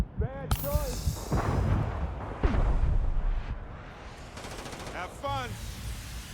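Grenades exploding during a firefight in the space game Starfield, heavy booming blasts and gunfire rumbling through the middle, with a voice talking briefly at the start.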